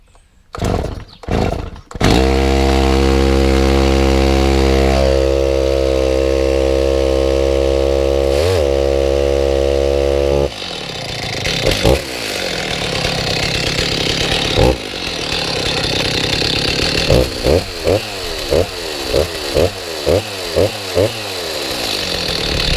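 Old Stihl chainsaw started from cold with its decompression valve, the small two-stroke engine catching after a few pulls, then idling steadily and loudly for several seconds before sputtering into an uneven, popping idle with light blips.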